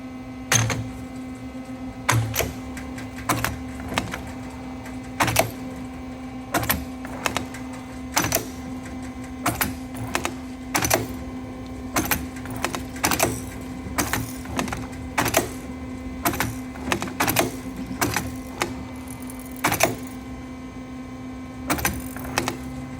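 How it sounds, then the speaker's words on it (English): A CNC tube bender bends a 3/16 rear axle brake line for an 84 Jeep CJ7. A steady motor hum runs throughout, broken by repeated sharp mechanical clunks and whirs at a regular working rhythm. "just to show the tube bending process, we've got one of the 3/16 rear axle lines ready here on the CNC bender"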